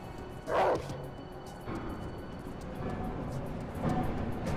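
In the video game Werewolf: The Apocalypse – Earthblood, a werewolf lets out a single short bark over a steady, noisy game ambience, with fainter thuds following later.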